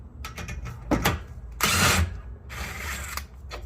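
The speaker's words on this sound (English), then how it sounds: "Get a little impact action going on here." An impact wrench on the bolts of a Porsche Cayenne Turbo 958 fires in two loud, rattling bursts, the first short and the second longer, with clanking workshop noise and handling in between.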